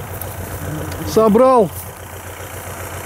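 A tractor engine idles steadily while hay is being raked, a low continuous hum running under a man's brief speech.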